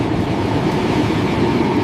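A metro train runs along its rails with a loud, steady, close rumble and roar that fills the whole stretch without pause.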